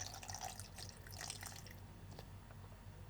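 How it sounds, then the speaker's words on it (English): Water trickles and splashes steadily as it is poured into a bottle already holding pebbles, a close, continuous liquid sound with small bright drips. "Now what I have to do is to fill up to this mark with water."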